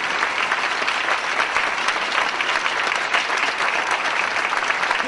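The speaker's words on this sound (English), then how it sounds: "If you just give us a big applause while I take my seat." A concert audience at an annual Christmas symphony orchestra concert claps in sustained, dense applause that holds steady and loud throughout, with no voices on top.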